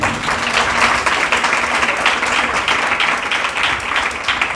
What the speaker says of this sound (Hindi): इसमें ताली क्यों नहीं बजेगा?